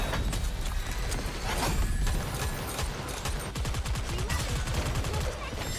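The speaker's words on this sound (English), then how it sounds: "those guys shoot missiles" Enemy missile barrages and gunfire in the Nikke shooter game form a dense, continuous clatter of rapid shots and blasts, loud and steady throughout.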